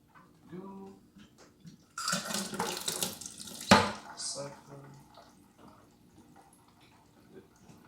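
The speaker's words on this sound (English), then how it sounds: "So I just siphoned a bit on the two back sections" Water and debris are siphoned from the bottom of a Fluval Flex 32-gallon aquarium through tubing, with close gurgling and rushing water, a sharp slurp midway, and scattered drips around it while someone speaks quietly.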